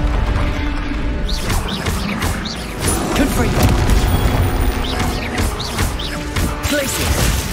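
Repeated blasts of the Confringo fire spell in Hogwarts Legacy, set to a hard, Dark Souls-style difficulty: loud, dense booms and crashes follow one another over a constant roar of combat noise.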